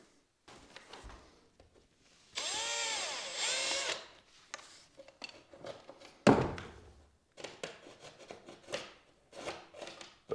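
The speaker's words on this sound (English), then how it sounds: "I think what I'm gonna do is drill a small pilot hole first" Power drill boring a small pilot hole into a drywall wall in an old house, heard in a couple of short whirring bursts with knocks and handling noise between them.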